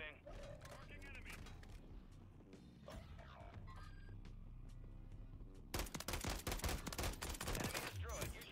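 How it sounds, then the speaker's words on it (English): Bursts of SVA rifle fire in Call of Duty MW3 Warzone, sharp clustered shots growing denser and louder toward the end, layered over game effects and a voice speaking. "this SVA in burst mode"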